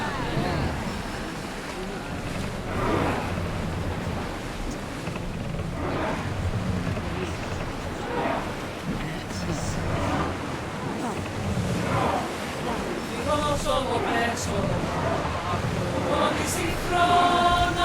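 A ship under full sail on open water in Assassin's Creed Odyssey, with a steady wash of waves and wind and creaking hull sounds over the whole stretch; voices talk over it.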